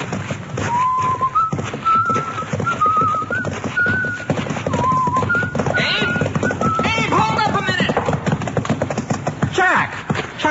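A horse in an old-time radio drama, a surveyor's mount, clip-clops along at a walk, then gives a wavering whinny partway through, all fairly close and clear.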